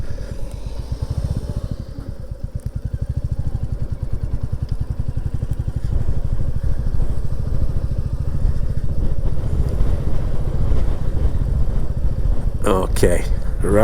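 A Royal Enfield Classic 350 single-cylinder motorcycle thumps along at a steady riding pace, its low rhythmic exhaust beat close under wind rush, with a rider speaking briefly.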